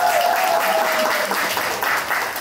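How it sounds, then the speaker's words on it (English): Live-show audience applauding a speaker's girlfriend, a dense, even wash of clapping held at steady loudness throughout, with a faint tonal hum in the background early on. "Give a round of applause for her."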